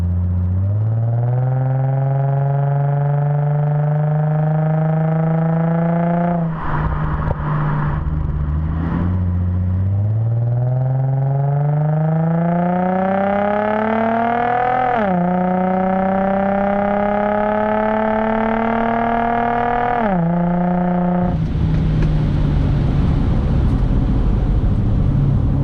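A 2004 Infiniti G35 with a Borla exhaust drives hard, its engine note climbing steadily through the gears with loud, rising revs and brief drops at each shift, then a rough, roaring burst near the end.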